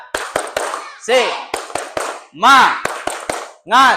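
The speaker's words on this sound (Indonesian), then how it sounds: "Tepuk semangat." Elementary school students perform a spirit clap, sharp rhythmic hand claps in quick patterned bursts, with voices chanting loudly between and over the claps.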